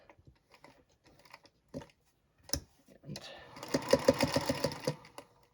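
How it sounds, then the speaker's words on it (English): A sewing machine stitches across a fabric book cover in a short, rapid run of close, even stitches, loud and near after a few quiet clicks and handling sounds. "And then stitch across, needle down, stitch across"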